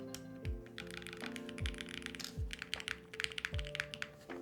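Typing on a TG67 mechanical keyboard, with a steady stream of close, crisp key clicks and several deeper spacebar thocks spaced through the passage, heard alone without talk.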